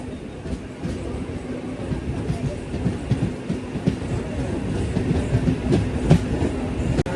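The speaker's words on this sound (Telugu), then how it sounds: "హిందూపూర్ నుంచి మచిలీపట్నం అయితే వెళ్తుంది ఇప్పుడు ఈ బండి" A MEMU passenger train bound from Hindupur to Machilipatnam rolls along at Narayanapuram station with a steady rumbling drone and faint clickety-clack of wheels, loud and continuous with no voices.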